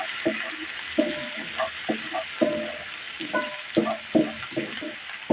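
Egg added to a pan with onion and green chili for egg noodles, frying under a gentle sizzle while a spatula scrapes and taps in quick, uneven strokes.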